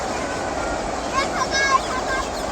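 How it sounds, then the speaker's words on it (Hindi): A train pulling into a station, with a steady rumbling rush and faint metallic squeals of wheels and brakes rising near the middle, voices murmuring nearby. "देखो हमारा ट्रेन आ रहा"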